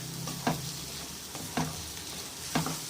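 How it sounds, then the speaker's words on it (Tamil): Egg and torn parotta frying and being stirred in a pan, a steady low sizzle broken by three evenly spaced spatula scrapes, close and unaccompanied by speech. "முட்டையை நல்லா வேகிற அளவுக்கு செஞ்சு விட்டுக்கிறோம்"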